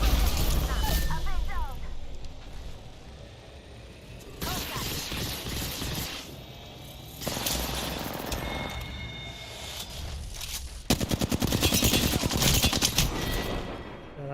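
Rapid automatic gunfire in a Season 16 Apex Legends team deathmatch, loud bursts stopping and restarting over a continuous game soundscape, with a voice talking under the shooting.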